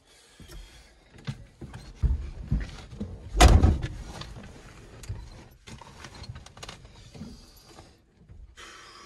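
Starter motor on a Ford F250 with a 6.9 IDI diesel, freshly replaced, whirring as it tries to crank the engine, with a loud burst near the middle amid clunks and mechanical noise.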